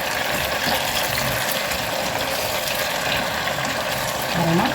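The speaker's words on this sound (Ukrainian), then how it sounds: "Все на великому вогні смажиться, тому що нам треба обсмажити, а не тушкувати." Tomatoes fry in a pan over high heat for an autumn cream soup, a steady close hiss and sizzle that continues without a break, with faint tonal sounds mixed in.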